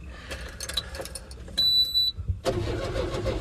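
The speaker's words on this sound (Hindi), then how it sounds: "पहले करते हैं गाड़ी को स्टार्ट" A load-carrying vehicle's engine is started in the morning: faint rattling and clicks come first, then a brief high tone, and then the engine catches and settles into a close, steady running rumble.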